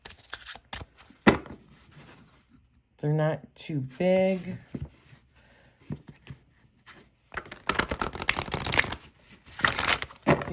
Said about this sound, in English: See, it is a beautiful shuffle.